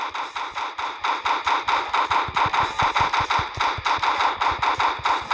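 Rapid bursts of automatic gunfire in a stickman video game, steady fast rhythm, loud and continuous, with no speech.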